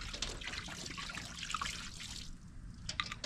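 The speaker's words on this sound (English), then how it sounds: "So we're gonna go ahead and add our liquid crab boil." Liquid Louisiana crawfish and crab boil poured from a bottle into a pot, a steady trickling, splashing stream that thins out briefly before a few last drips and splashes.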